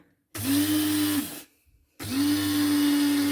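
A Kiwi coffee and spice grinder whirs loudly in two bursts, a steady high motor whine with a short pause between, close up, with no talk.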